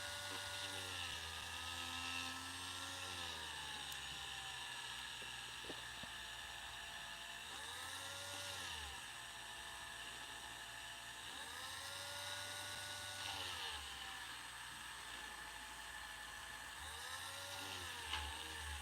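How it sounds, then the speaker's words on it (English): A small power sander works on a plastic He-Man Origins action figure, its high whirring buzz running steadily with several short rises and falls in pitch as the tool is pressed and eased, close and fairly quiet, no voices. "this sander is a whole lot less aggressive, so it takes a lot longer to sand out"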